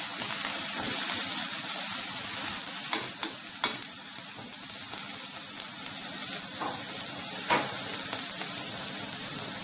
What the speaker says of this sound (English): now I'm going to saute the vegetables